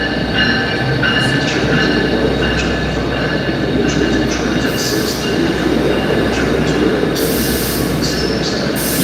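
A New Jersey Raritan Line passenger train hauled by a PL42 locomotive pulls into a station, a loud, steady close rumble of rolling cars with bursts of high wheel squeal and a faint voice underneath.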